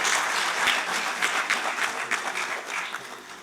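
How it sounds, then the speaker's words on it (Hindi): An audience at the international Hindi conference claps for an award presentation, a dense burst of applause that starts strong and gradually thins out. "ताली बजाइए।"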